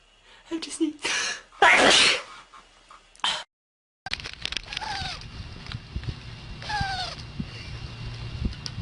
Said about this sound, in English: Look at Hab sneezed